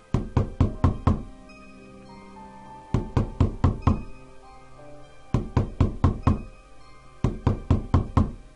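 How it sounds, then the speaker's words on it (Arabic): Knocking thumps under a bed come in repeated bursts of five or six quick hard knocks separated by pauses, loud and close, with a sustained low tone lingering between bursts. "حاجه كانت عماله تخبط تحت السرير عندي"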